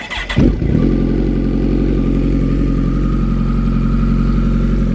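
A Kawasaki ZX14R motorcycle engine with an upgraded fuel pump turns over and fires, catching within half a second, then settles into a steady, loud, close idle that runs on alone.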